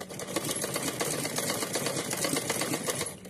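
A sewing machine stitches cotton fabric for a small deity outfit, its needle running in a fast steady mechanical patter, close and moderately quiet, alone without speech.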